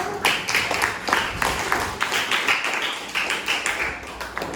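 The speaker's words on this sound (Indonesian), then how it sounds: "Tepuk tangan dari kelompok 1." A seventh-grade class claps for a student group, scattered uneven handclaps from a small room of pupils over several seconds.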